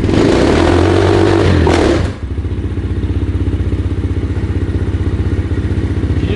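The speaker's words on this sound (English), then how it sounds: "Let's initiate the burnout we just did." Pit bike dirt bike engine revving hard during a burnout, a loud, harsh, sustained roar that drops abruptly after two seconds into a rough, pulsing idle with a steady chugging beat, very close with no voices.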